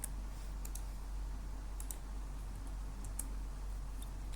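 Scattered keystrokes on a computer keyboard as a hashcat command is entered, faint sharp taps spaced unevenly over a steady hum of background noise, with no voices.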